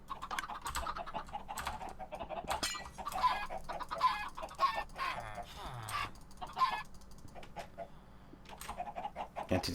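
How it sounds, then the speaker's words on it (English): Chickens clucking inside a crowded Minecraft pen, many birds overlapping in a busy, continuous chatter with brief higher squawks, fairly close and steady throughout. "Maybe there are just like a stupid amount of chickens in here."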